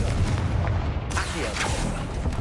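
Confringo blasting spell in Hogwarts Legacy going off with a sudden booming burst inside a decaying catacomb, a single heavy blast over low rumbling ambience.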